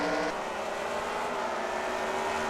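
Race cars in a sim-racing league Mobil1 Cup Series event at Infineon, engines droning in a steady, continuous roar of several cars running together on track.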